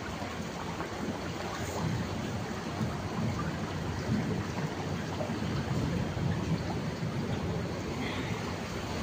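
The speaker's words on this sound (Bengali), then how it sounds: "এটাকে বলে দিল্লির বৃষ্টি।" Heavy rain pours steadily in Delhi, a dense, even roar of downpour filling the whole stretch with no pauses and no talking.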